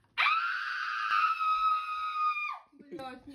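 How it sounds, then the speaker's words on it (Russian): A girl lets out one long, loud, high-pitched squeal lasting over two seconds while the noise level is measured, followed by brief voices. "Она там так визжит."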